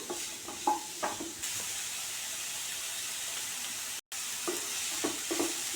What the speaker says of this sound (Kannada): ನಂತರ ಹೆಚ್ಚಿಟ್ಕೊಂಡಂಥ ಮಶ್ರೂಮು ಇದೆಲ್ಲ ಹಾಕಿ 1-2 ಮಿನಿಟ್ಸ್ ಅಷ್ಟೇ ಲೋ ಫ್ಲೇಮ್ ಒಳಗೆ ಫ್ರೈ ಮಾಡ್ಕೊಳ್ಳೋಣ.